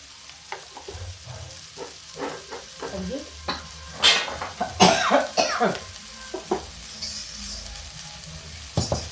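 A few harsh coughs from chili fumes burst out among stirring and sizzling of chili peppers in a pan, with spoon clinks and occasional kitchen clatter.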